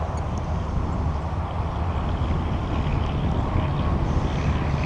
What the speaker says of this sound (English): we're going to take the plane up, we're going to fly it pretty straight overhead